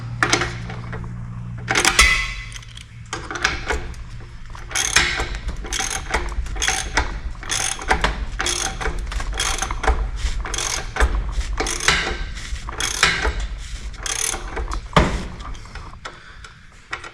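Fan belt tensioner being tightened with a hand tool on a Rotax 447 engine of a Quad City Challenger aircraft; close repeated ratcheting clicks and metallic mechanical clatter in a steady working rhythm with brief pauses.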